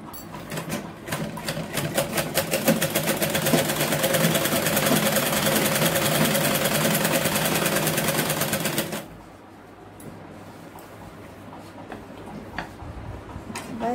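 A sewing machine runs steadily for about nine seconds while stitching a sleeveless kurti, a fast loud mechanical whir, then stops abruptly, leaving quiet room tone with faint handling.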